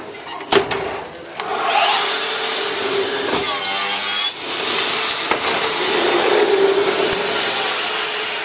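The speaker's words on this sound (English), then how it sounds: "we're going to trim one end on the panel saw" A panel saw trims one end flat on a wood panel for a storage chest, its motor spinning up to a steady high whine as the blade cuts through, loud and close, with no talking.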